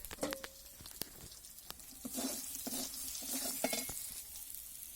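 Bay leaf and panch phoron spices fry in hot oil, a faint steady sizzle punctuated by small pops and light utensil clicks, close and quiet.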